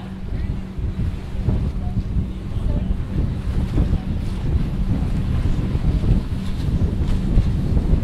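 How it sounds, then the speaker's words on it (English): The sailboat Woodwind sailing close-hauled out of Annapolis, with constant loud wind buffeting and rushing water and waves against the hull, dense rumbling noise throughout. "we're sailing what we call close haul, which means that we're sailing as close to the wind as we can"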